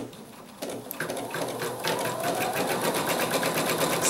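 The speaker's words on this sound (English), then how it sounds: "We're going to start the machine, and it's going to stitch this out, this rectangle." A sewing machine stitching out a rectangle on a raccoon mug rug, starting up after a quiet moment and then running in a fast, steady whirring rhythm, close and loud.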